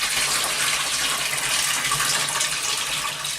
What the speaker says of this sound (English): as you can see, a lot of white water. Right. That's all the grain. starch coming out.